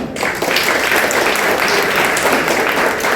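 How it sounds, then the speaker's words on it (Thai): Audience in a hall applauding themselves at a business success testimonial event, dense sustained clapping close and loud throughout with a steady wash of many hands. "ปรบมือให้ตัวเองครับ"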